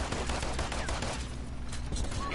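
Rapid, dense bursts of gunfire in the video game Paladins crackle loudly and continuously over a couple of seconds, layered over busy game effects.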